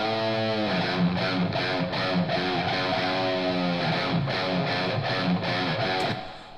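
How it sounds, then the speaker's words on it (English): Guitar played through a bright chamber studio reverb preset modeled on Sunset Sound, with sustained distorted chords and repeated strums ringing into a dense, washy tail that fades at the end. "Sunset Sound Studio Reverb"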